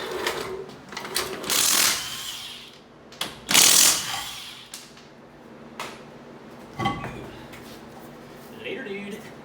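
An impact wrench works bolts on a Land Rover Defender in two loud, close bursts, one followed by a softer hit, amid clanking tool and metal handling noises.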